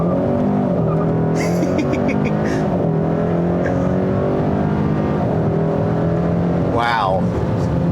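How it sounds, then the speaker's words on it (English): A 2021 Hyundai Sonata N-Line sedan of nearly 300 hp launches hard under launch control, its engine roaring loud and close throughout with brief tire chirps, while people talk over it. "the launch control is kind of finicky, but it is very effective"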